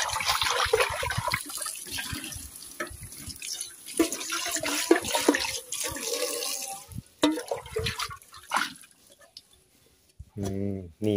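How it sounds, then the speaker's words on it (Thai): Tap water runs and splashes inside a burnt cooking pot being rinsed clean, a loud close gush that shifts as the pot is swirled, then fades near the end. "แล้วเราก็ล้างครับ"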